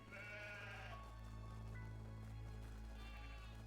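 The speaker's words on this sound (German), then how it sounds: "Kommt schon, Schafe." Sheep in the video game Craftopia bleat repeatedly in a steady run, close and fairly loud over a constant low in-game background hum.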